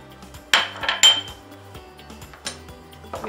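Peas and carrots being stirred into a potato salad, with sharp clinks of a utensil against a bowl at irregular moments, close and fairly loud, between quieter scraping.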